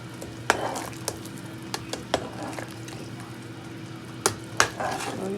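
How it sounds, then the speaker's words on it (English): A ladle stirs a pot of homemade chicken noodle soup at a boil, sharp metallic clinks sounding irregularly over a low, steady bubbling hum, close by and with no talking. "So I'll just do a little stirring just to make sure everything is"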